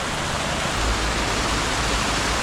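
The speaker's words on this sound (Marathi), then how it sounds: "त्याच्यामध्ये पाण्याचा खळखळ खळखळ पाण्याची हे बघा मस्त ओढा आहे" A white, fast-flowing stream runs past green fields in the countryside, giving a steady, close rush and babble of water that stays even throughout with no voices.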